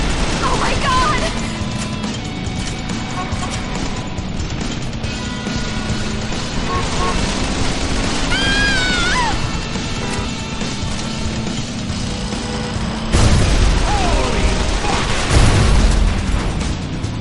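Heavy booms, crashes and gunfire crackle through a tense firefight in Call of Juarez: The Cartel, with an RPG blast landing late, all under shouted voices and a dense, noisy game mix.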